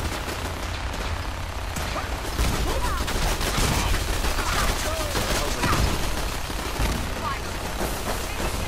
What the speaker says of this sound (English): Who in the fuck is shooting?